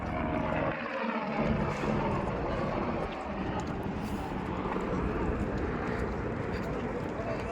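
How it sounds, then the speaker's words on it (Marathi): A steady, rumbling helicopter engine drone fills the whole stretch, loud and constant as it passes overhead along the Amarnath Yatra route. "हेलिकॉप्टर दिसतंय जाताना"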